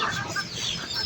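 A hen clucks close by in a household coop where eggs are being collected, giving a quick run of soft, throaty calls over a faint background hum.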